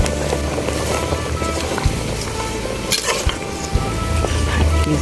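Vegetables stir-frying with termite mushrooms in a pan for an Isan bamboo-shoot curry, giving a steady close sizzle with scattered clinks and scrapes of utensil on metal, with no talk.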